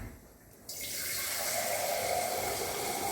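Water starts pouring into a pot of milk cream being churned for butter after a brief quiet moment, then runs in a steady, loud, even stream until the end.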